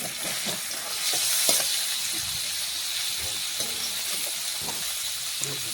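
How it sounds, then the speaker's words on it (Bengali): Whole cumin seeds and five-spice dropped into hot oil left from frying paneer cubes crackle in a bright, steady sizzle, close and continuous, with light stirring clicks and no talking. "এখন ওই তেলের মধ্যে দেখুন ফোড়নে দিয়ে দিলাম গোটা জিরে, 5 ফোড়ন। একটু ভেজে নিচ্ছি।"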